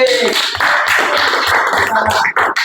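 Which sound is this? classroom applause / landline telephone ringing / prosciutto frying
classroom applause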